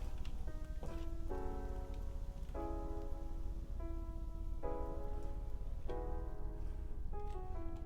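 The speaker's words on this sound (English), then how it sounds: "It's raining." Steady rain hiss falls in a city-building game, a constant broadband wash that runs the whole time while tonal musical notes ring out in repeated phrases over it.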